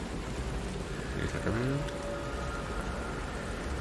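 Steady rain pours down in the video game Lies of P, drops splashing on the ground, a continuous hiss running through the whole stretch while a person talks briefly over it.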